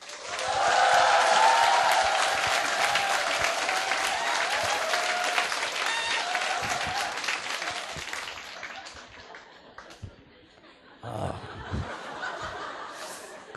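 Congregation in a church gives sustained applause mixed with some chuckling, steady for about eight seconds before fading, then a short burst of noise near the end.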